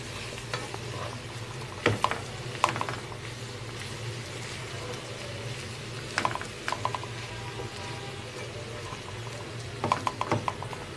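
Potatoes and chicken breast sizzle steadily in a pan with salt and black pepper while a utensil scrapes and stirs them in a few short bursts, close and fairly quiet.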